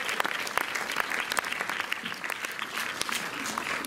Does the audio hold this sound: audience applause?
yes